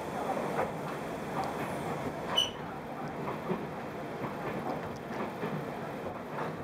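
A train on the Qinghai-Tibet Railway rumbles along at speed, a faint, steady rolling drone of carriage noise heard from inside, with a brief squeal or clank partway and a murmur of talk.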